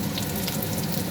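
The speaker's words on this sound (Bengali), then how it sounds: "পেঁয়াজটা ভেজে নেব" A large chopped onion fries lightly in a pan while a prawn chop is being made, giving a steady, close, even sizzle throughout with no voices.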